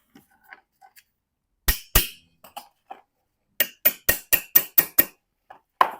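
Sharp metallic clinks ring out from an Allen socket being fitted onto the middle stud during a Ford Fiesta coil spring replacement. There are two loud strikes, then a quick run of about six evenly spaced taps, close by in a quiet space.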